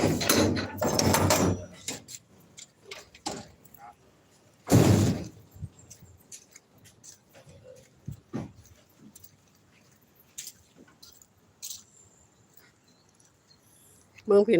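A door being opened at a house in a Thai village, with a loud wooden clatter near the start, another sharp burst around five seconds, and scattered small knocks and rustles in a quiet room.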